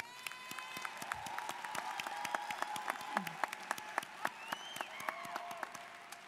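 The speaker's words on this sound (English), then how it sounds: "Why don't you just give yourselves a round of applause?" A graduation audience claps together in a steady, sustained round of applause, moderately distant and fairly quiet, with sharp individual claps standing out and no talk over it.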